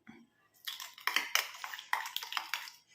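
Karisalankanni juice being stirred into a homemade herbal hair dye mixture in a bowl, giving a run of close scraping and clinking strokes of a spoon against the bowl that repeat at an irregular pace, with no voices.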